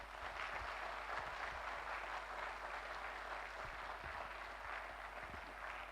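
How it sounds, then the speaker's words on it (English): Sustained applause from a conference audience for an organizing team at an HR conclave, a dense, steady clatter of many hands lasting throughout without a break. "Big round of applause for the organizing team."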